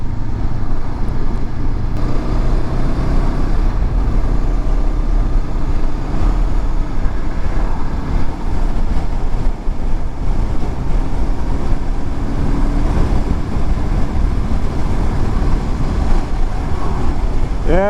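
Road traffic on a country highway near a motocross track makes a steady, loud, broadband roar of passing vehicles, continuous and without pause, with no talking.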